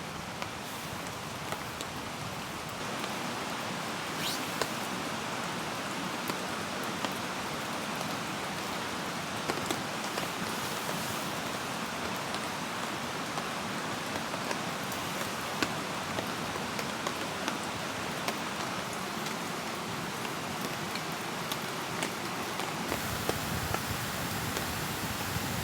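Heavy rain drums steadily on a camping tarp, a dense continuous patter with no talk, running loud and unbroken before easing slightly near the end.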